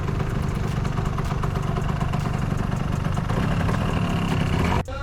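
An Italjet Dragster scooter engine runs steadily up close, a loud continuous mechanical drone with faint clatter that dips briefly near the end.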